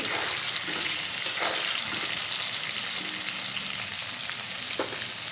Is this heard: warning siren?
no